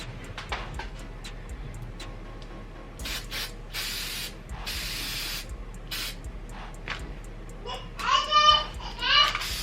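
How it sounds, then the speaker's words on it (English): Several short bursts of aerosol spray onto a wine bottle, some brief and one longer hiss, with light handling noises between them, close by. "So I'm just going to go ahead and give it a spray."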